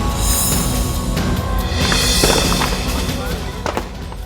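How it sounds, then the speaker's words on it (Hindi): Firecrackers burst amid a fierce blaze after a scooter parked outside a service center in Ghaziabad was set on fire, loud crackling pops over a constant roaring fire noise. "पटाखे फूटने की आवाजें आ रही हैं।"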